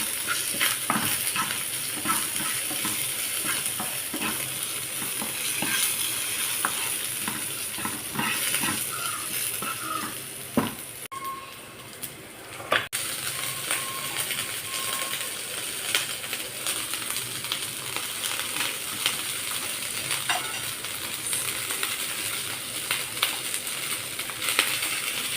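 Chopped onion and spring onion greens fry in a pan while a spoon stirs them, a continuous close sizzle broken by frequent scraping and clicking strokes, with one brief quieter stretch midway.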